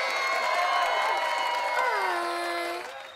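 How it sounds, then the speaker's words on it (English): A live audience of children and families cheers, whoops and claps after the last song of a kids' music show, a dense, sustained crowd roar with high excited voices that fades slightly at the end. "if we keep clapping and show how much we enjoyed the show"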